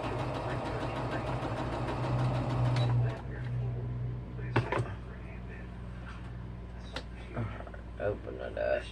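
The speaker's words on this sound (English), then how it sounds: "now I'm going to go ahead and sew this one on." A sewing machine stitches through fabric with a steady mechanical whir for about three seconds, then stops, leaving scattered clicks and handling noises.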